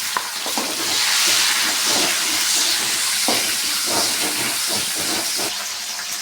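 Tomatoes dropped into a hot pan of oil with garlic fry with a steady close hiss and sizzle, broken by scattered stirring clicks, no voices over the frying.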